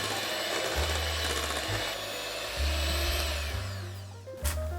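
Electric hand mixer whirring steadily through banana bread batter that is being deliberately overmixed, with a continuous close hum whose pitch shifts as the beaters move.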